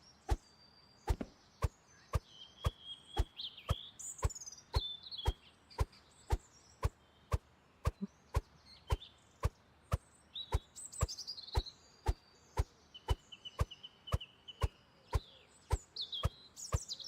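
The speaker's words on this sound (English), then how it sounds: "The bird sound" Bird chirps ring out in a cozy video game, short bright tweets scattered over a steady series of sharp rhythmic clicks or chops repeating about twice a second.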